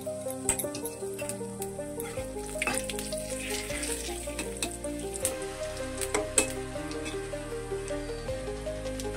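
Dried red chillies, bay leaf and cumin seeds frying in hot oil, a steady crackling sizzle with sharp pops and spits over a sustained tonal hum, no talking.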